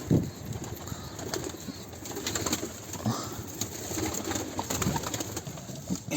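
A captured stray pigeon with a neck paralysis coos softly amid rustling handling noise and a faint high hiss, close by, with no talking.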